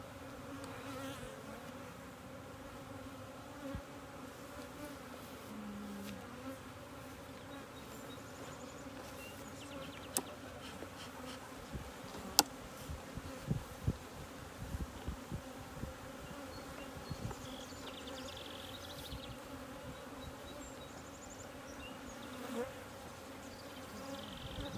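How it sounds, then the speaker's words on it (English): Dense, continuous buzzing of many honey bees swarms around an open beehive during an inspection, a close, steady drone with occasional sharper passes near the microphone. "Well, there's a lot of bees."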